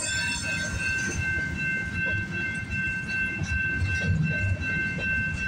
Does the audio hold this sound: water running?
no